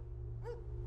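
A dog gives a single short bark at a distance, faint and brief, over a steady low hum.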